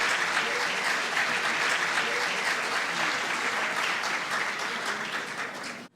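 An auditorium audience at a rural congress panel applauds a panelist, a full, sustained roar of many hands clapping evenly for several seconds before tapering off abruptly at the end.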